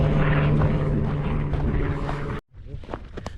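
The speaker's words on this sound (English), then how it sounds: "This is Return of our favourite plane." A propeller airplane drones overhead above a Shropshire valley trail, loud and steady with a low engine hum, then cuts off suddenly partway through as faint outdoor sounds take over.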